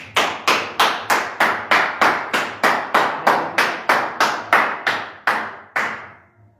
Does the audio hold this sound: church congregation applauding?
yes